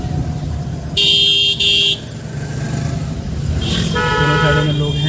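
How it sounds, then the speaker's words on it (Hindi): A car horn honks in a steady tone for about a second amid road traffic noise, with a second fainter honk later and voices nearby. "दोनों साइडों में लोग हैं, देख करके हॉर्न मार करके अलर्ट होकर के फिर निकलते हैं।"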